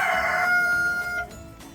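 A rooster crows once, loud and close, among chickens in a coop, its drawn-out call trailing off after about a second into quieter coop noise.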